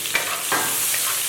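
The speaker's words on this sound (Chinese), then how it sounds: "锅内加一点点油，放入切好的红青椒圈和蒜末爆香" Red and green chili rings with minced garlic sizzle in a little hot oil, a steady close hiss with a few brief stirring scrapes over about a second.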